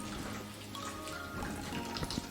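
Apple juice drips inside a juice steamer as apples cook down, a steady faint watery trickle with soft irregular drops under a hiss and no speech.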